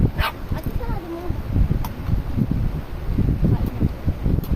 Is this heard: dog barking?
yes